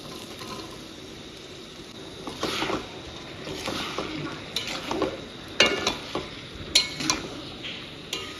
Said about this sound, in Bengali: এখন আমি সুন্দর করে কষাবো।